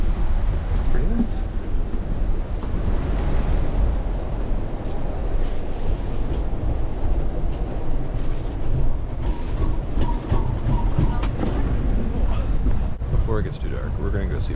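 Amtrak passenger train riding the rails, a steady loud rumble of wheels and car noise with faint clicks and some wind buffeting, continuous throughout with talk mixed in.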